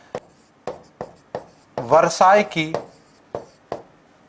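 Chalk or marker writing on a board in a classroom history lesson: several short scratchy strokes in a loose rhythm, close and clear, with someone speaking in the middle.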